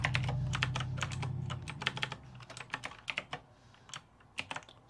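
Rapid keystrokes on a computer keyboard while Python code is typed out, clicking in quick uneven bursts up close, with a low hum beneath that fades after the first couple of seconds.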